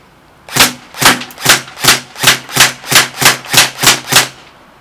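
An upgraded KWA KM4A1 airsoft rifle fires ten evenly spaced semi-auto shots, each a sharp, close, muffled crack, in a steady rhythm of roughly two per second.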